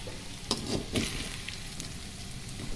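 Paneer roasting in a pan gives a steady frying sizzle with soft stirring scrapes and a few light clicks, close and continuous with no talk.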